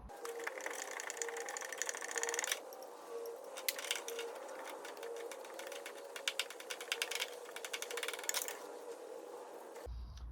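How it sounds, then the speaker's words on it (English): A small ratchet works loose 12 mm nuts on the EGR flexi pipe of a VW Transporter 2.0 CR TDI engine, giving quiet bursts of rapid clicking over a low steady hum, ending abruptly. "We can get the smaller ratchet in there so we can actually get them undone"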